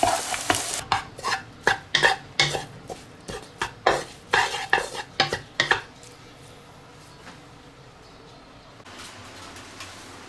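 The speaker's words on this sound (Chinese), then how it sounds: "油热倒出鸡蛋液， 咱这个鸡蛋直接给它搅碎" Beaten egg is poured into hot oil in a home kitchen and broken up as it scrambles, with about a dozen sharp utensil scrapes and clacks against the pan in a steady rhythm, then a soft lingering sizzle with no speech.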